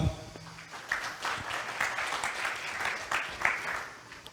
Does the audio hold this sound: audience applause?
yes